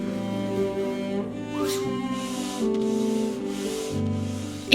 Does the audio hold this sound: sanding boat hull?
yes